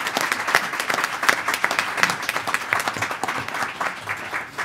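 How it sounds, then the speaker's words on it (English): Audience applause for a panel at a civil society forum on gender in the military and security sector, a steady room of clapping hands at moderate level, with dense overlapping claps throughout and no talk. "join me in a really warm round of applause for this fabulous panel"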